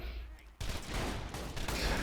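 After a brief quiet moment, a sudden loud barrage of rapid gunfire and blasts erupts and keeps going, from a Borderlands video game.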